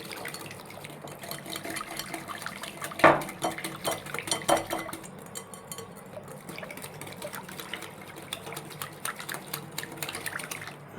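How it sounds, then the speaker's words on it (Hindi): Chicken cheese bun batter is beaten in a bowl with a hand whisk, producing rapid clinking and scraping of metal against the bowl and wet sloshing, with louder knocks near the start and no talk. "ये टेंची की मदद से मैं इसको अच्छी तरह फेंट लूँगा"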